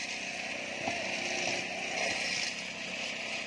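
Concrete plate vibrator running on a slab at a construction site, a steady loud mechanical buzzing drone with slight rises in intensity, continuous throughout.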